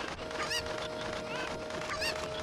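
Cucco chickens in the Ocarina of Time video game, with two short, shrill, squawking calls over a steady game soundtrack hum.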